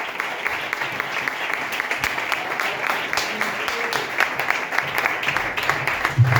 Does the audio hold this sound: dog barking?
no